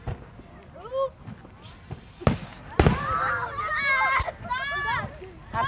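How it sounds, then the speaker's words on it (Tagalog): Canada Day fireworks at Downsview Park, Toronto: several sharp bangs and cracks at a moderate distance, some whistling streaks, with excited voices chattering throughout. "Fireworks sa Downsview Park."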